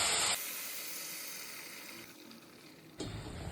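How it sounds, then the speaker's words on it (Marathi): Water poured into a hot pan while cooking masale bhat, a spiced rice dish, gives a loud burst of hissing sizzle. The sizzle settles into a steady, fading steam hiss, then a second sharp sizzle flares near the end. "आता आपण 4 ग्लास पाणी घेतलेलं ते घालूया त्यामध्ये।"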